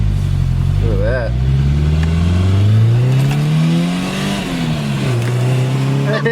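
Car with a 5-speed manual accelerating, engine revving up in rising sweeps with a gear change and dip partway, loud and close, with voices speaking over it.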